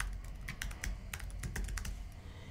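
Rapid clicking of keys on a computer keyboard as an email address is typed, a steady close-up run of light taps with no voices.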